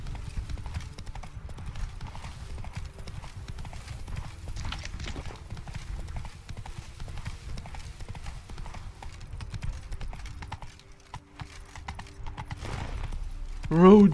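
Horse hooves clip-clopping in The Witcher 3: Blood and Wine, a steady, continuous trotting patter at moderate volume with game ambience, ending in a brief whinny-like sound.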